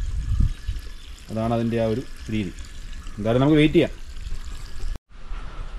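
Water pours steadily into a tarpaulin-lined fish pond, a continuous close rushing flow running beneath a man's speech throughout.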